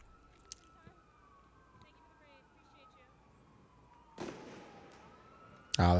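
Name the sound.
fireworks going off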